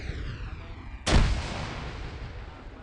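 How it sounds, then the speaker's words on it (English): A single sharp sniper rifle shot cracks out in Arma 3 during a realism-unit co-op training battle, a sudden loud report with a long rolling echo, faint radio-like tones fading beforehand. "A sniper shooting at me."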